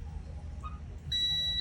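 A multimeter set to continuity mode gives a steady electronic beep while a lithium-ion EV charger is being tested for a shorted MOSFET. The beep starts abruptly partway through and continues, sitting over low background hum.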